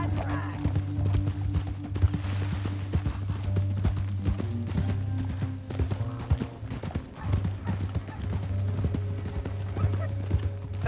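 Horse hooves clop at a steady gallop in the Red Dead Redemption 2 video game, a continuous rhythmic pounding with occasional horse snorts under a low rumbling background.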